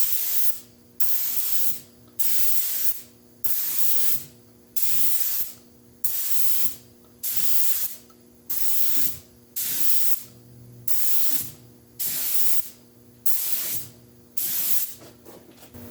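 An aerosol can of spray paint tint lays down a coat in a long series of rhythmic bursts, each a close, loud hiss of about a second, separated by short pauses.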